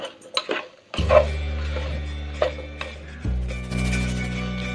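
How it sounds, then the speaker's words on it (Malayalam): Salted okra frying in a pan is stirred for Dhaba-style okra masala, giving scattered scrapes and clinks of a utensil against the pan over a steady low hum, with no talking. "ഇനി ഇത് നന്നായി ഒന്ന് മിക്സ് ചെയ്ത് കൊടുക്കാം."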